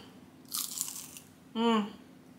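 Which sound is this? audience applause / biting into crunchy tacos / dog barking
biting into crunchy tacos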